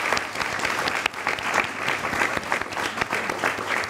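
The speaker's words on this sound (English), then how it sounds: "I'd like to ask maybe for a round of applause for everyone." An audience at a talk claps continuously, a dense, lively round of applause that stays loud and even throughout.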